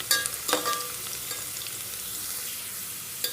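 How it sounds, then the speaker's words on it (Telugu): Onions fry in oil for a hotel-style chicken dum biryani, a close steady sizzle with a few sharp crackles and stirring clinks near the start and end. "మన ఆనియన్స్ అంతా ఫ్రై అయిపోతున్నాయి"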